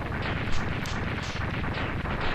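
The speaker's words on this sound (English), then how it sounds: "Nice, pretty blue explosions in this game instead of the orange ones" Rumbling blasts from explosions in the video game Mega Man X2, a dense, continuous barrage of booms with repeated peaks over the short stretch, loud and close.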